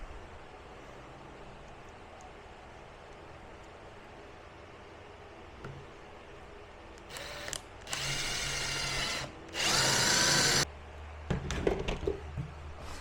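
A power drill drives fasteners into a wooden brace on a cornhole board in a workshop, with two long close whirring runs and a few short bursts and clatters after a quiet stretch of room noise.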